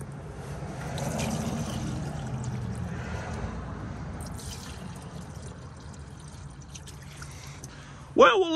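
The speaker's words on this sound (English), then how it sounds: "Got a good 60-40 mix in this jug, and well, we're just gonna pour it in there" A 60-40 mix is poured from a jug into the engine cylinders of a 1934 Oldsmobile hearse, giving a soft trickling pour that fades out, ending with a sharp brief sound at the close.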